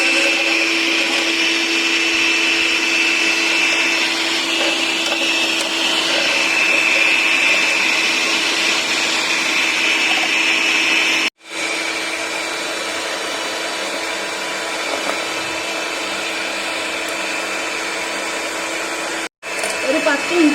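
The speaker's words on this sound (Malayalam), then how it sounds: "അപ്പൊ നമ്മള് ബീറ്റർ ഉപയോഗിച്ചാണ് ബീറ്റ് ചെയ്യണേ." An electric beater whips dalgona coffee in a Kerala kitchen, a continuous high motor whine with a steady tone, cutting out briefly twice before running on, loud and close.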